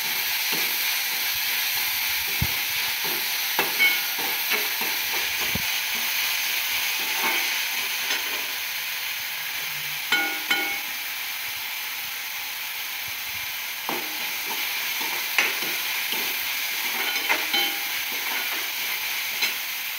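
Vegetables frying with salt in a pan for a brinjal curry: a long, even hiss of sizzling oil with scattered light stirring taps and knocks, close by and without speech.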